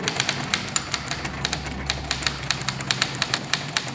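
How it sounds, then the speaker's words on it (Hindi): An old manual typewriter clatters steadily, sharp key strikes in a quick, uneven rhythm with a low mechanical hum beneath, close and loud with no voices. "आप ये देख रहे हैं बाखूबी टाइपराइटर कितनी अच्छी तरीके से चल रहा है।"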